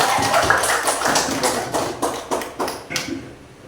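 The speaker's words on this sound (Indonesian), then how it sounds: "Aplaus untuk kelompok 4." Applause for a presenting group at an Indonesian meeting, a short run of evenly spaced hand claps, fairly close and unaccompanied by talk.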